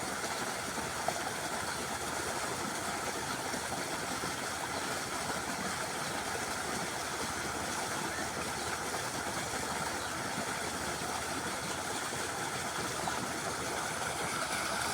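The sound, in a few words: ACI water pump motor irrigating a paddy field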